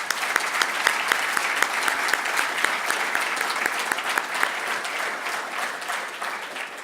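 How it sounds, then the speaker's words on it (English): Sustained audience applause fills a hall at a public forum on Auckland's 10-year budget and the Auckland Plan 2050 environment session. Dense, steady clapping from many hands stays loud and even throughout before easing slightly near the end. "please another round of applause"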